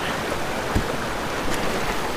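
Steady rushing of flowing water fills the clip, with a few brief splashes as someone wades through a shallow, cold mountain stream in the Desolation Wilderness.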